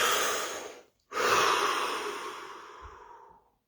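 A person takes one deep breath with a short airy inhale, a brief pause, then a long exhale that slowly fades. It is close and clear, with no talking.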